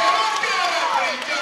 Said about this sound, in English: the crowd here is deafening